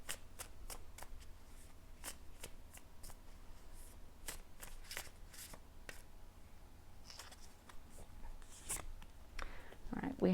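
Tarot cards shuffled and flicked by hand during a pick-a-card reading, a steady run of quiet riffling snaps and slides, close and alone without talk.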